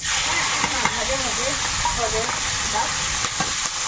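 Onion, green chilli, ginger and garlic fry in oil with panch phoron in a kadai, a constant close sizzle and hiss with a voice talking faintly over it.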